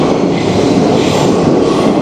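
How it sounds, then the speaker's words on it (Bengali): A Moscow metro train pulls into the station with a loud, steady rumble of wheels and carriages, a continuous close rolling roar with no talk over it. "এই যে মস্কোর ট্রেন চলে এসছে"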